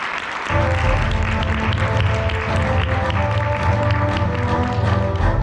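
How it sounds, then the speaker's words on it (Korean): Audience at a one-day seminar bursts into loud, sustained applause that starts abruptly and continues steadily throughout, dense clapping filling the room. "우리 한번 크게 박수치고 더 박수를 하겠습니다"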